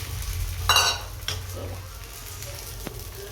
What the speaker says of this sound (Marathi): त्याला फोडणी देते